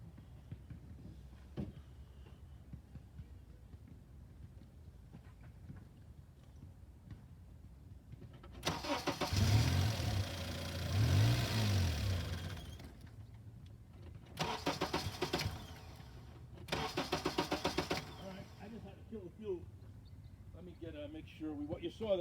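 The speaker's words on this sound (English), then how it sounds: "I'm going to shut the fuel down and then do everything cranking" A car engine cranking over with its fuel shut off, the starter churning in a few separate bursts, the longest first and two shorter ones after, between quiet stretches with low background noise.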